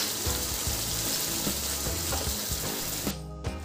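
Masala with fresh green chillies and salt sizzles steadily in a pan over a medium flame, with a continuous hiss and occasional soft stirring scrapes.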